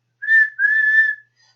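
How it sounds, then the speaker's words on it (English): Two whistle blasts from Thomas and Toby the tank engines, a short high tone followed by a longer one, clear and close with a faint trailing note, in a children's bedtime story of the railway. "Toby and Thomas blew their whistles to say thank you."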